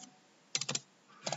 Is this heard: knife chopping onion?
no